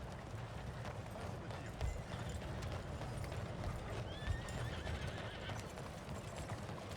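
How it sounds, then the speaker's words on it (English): In Red Dead Redemption 2, horse hooves clip-clop at a steady trot under a soft, constant background, with a faint whinny near the middle and no talking. "Ah, nosso cavalo tá aqui"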